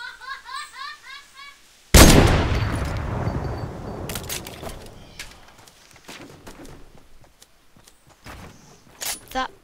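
Gunshot in the Fortnite video game, a single sharp loud blast with a decaying rumble, followed by scattered clicks, preceded by laughing.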